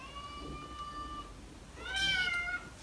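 Cats meow during a squabble as a new kitten is introduced to a resident cat at home: one drawn-out meow, then a louder, strained meow a moment later, both fairly close.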